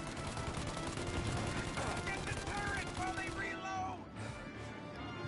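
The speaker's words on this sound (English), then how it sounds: "Shoot out your gun when there's a break in the fire!" A shootout in Mafia: Definitive Edition brings bursts of rapid gunfire and sharp impacts, loud and dense, thinning out near the end, with voices talking over the shots.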